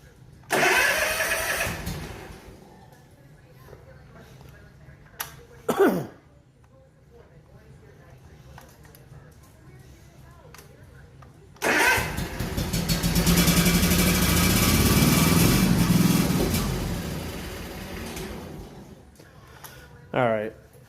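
A car engine cranks in short bursts, then churns longer and rougher as it struggles to catch, with quiet gaps between attempts, loud and close.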